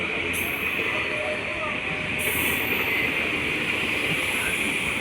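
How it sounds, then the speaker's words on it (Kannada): Passenger train of ICF coaches running from Trichy to Erode, a steady broadband rumble and rattle of the carriage in motion with a persistent hiss, continuous and close throughout. "ತಿರುಚಿಯಿಂದ ಈರೋಡ್ ಹೋಗುವಂತಹ ಪ್ಯಾಸೆಂಜರ್ ಟ್ರೈನ್."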